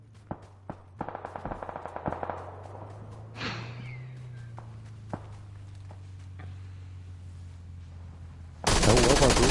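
Sharp shots crack out one after another, a quick burst of rapid fire followed by scattered single bangs, with a loud electronic noise at the very end.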